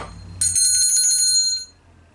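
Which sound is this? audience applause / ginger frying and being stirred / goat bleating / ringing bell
ringing bell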